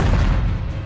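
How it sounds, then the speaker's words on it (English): Explosions in a World of Warcraft trailer set in a goblin city at war, a dense, rumbling low boom that fills the short moment at steady loudness with no talk. "there's going to be a whole lot of explosions"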